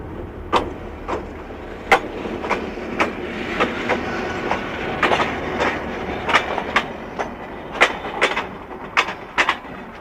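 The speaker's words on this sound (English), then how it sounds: "the GP9 and caboose return light and head south to Wallbridge Yard in" A Pennsylvania Railroad GP9 diesel locomotive and caboose run light on open track, with steady rumble and repeated sharp clickety-clack wheel beats over rail joints passing close by, no voices.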